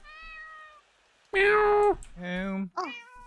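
A voice imitates a cat's meow in a string of drawn-out, close, fairly loud mewing calls, the middle ones strongest, with short gaps between.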